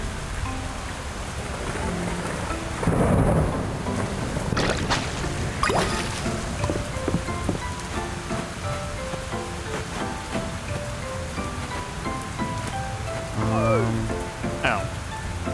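Steady rain patters on surfaces with occasional rolls of thunder in the farming game Fields of Mistria, a continuous wet hiss under faint soft in-game chimes and tones.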